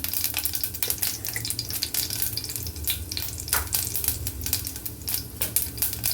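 Mustard seeds, urad dal, fenugreek and cumin sizzle and crackle steadily in hot oil for a sambar tempering, with occasional stirring clinks against the pan.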